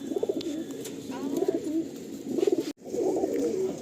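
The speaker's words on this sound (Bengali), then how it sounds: "এক একটা পায়রা দেখছি, অ্যাজ আ পায়রা প্রেমী আমার নিজের মন ভরে যাচ্ছে" Several pigeons coo in low, throaty bursts close by inside a pigeon loft, with a quick click partway through.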